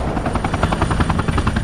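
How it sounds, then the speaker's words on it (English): Helicopter arriving for evacuation in the shooter game Modern Combat 3, a loud, near rotor chop pulsing rapidly and evenly over a heavy engine drone. "Time to call a helo for evac."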